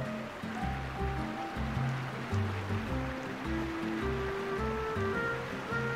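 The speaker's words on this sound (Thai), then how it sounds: "น้ำตกสวยมากมีเสียงด้วย" A waterfall flowing in a Roblox game, heard as a continuous rushing, splashing wash of water that stays steady and fairly loud, with faint tonal music drifting over it.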